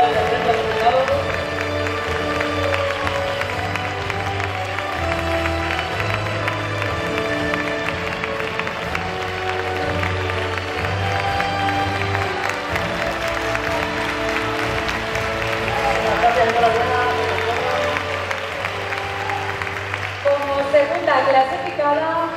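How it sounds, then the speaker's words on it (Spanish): Audience at a song festival award ceremony applauding an official, steady crowd clapping mixed with music playing throughout, fairly loud and continuous. "Pues aplauso para el presidente de los delegados."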